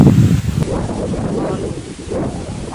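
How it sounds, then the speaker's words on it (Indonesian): Strong wind blasting across an outdoor fishing spot by rising river water, a loud continuous rumbling roar with gusty buffeting against the microphone throughout. "Angin yang kencangan guys."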